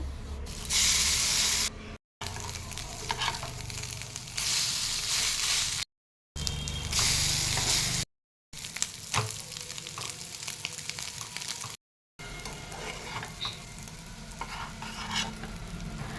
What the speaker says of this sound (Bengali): আমি এখানে 2 পিঠ হালকা লো ফ্লেমে উল্টে পাল্টে ভেজে নিচ্ছি।